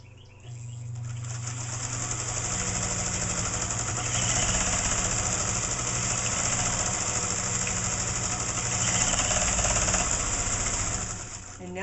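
A cast iron heavy-duty sewing machine stitches four layers of heavy denim, running steadily for several seconds, its motor humming loudly under a continuous fast mechanical stitching clatter.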